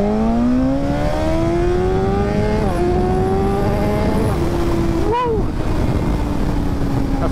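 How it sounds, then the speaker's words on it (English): A 2024 BMW M1000XR motorcycle launching hard in dynamic mode, engine note climbing in pitch with quick upshifts, loud and close, revs rising again after each gear change. "So I've got a little bit of wheelie control, and we'll do a little bit of a launch."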